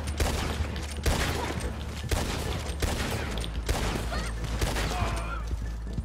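Rapid bursts of gunfire in the Western shooter Red Dead Online, repeated volleys of shots cracking loudly one after another over several seconds with a dense, continuous background of action.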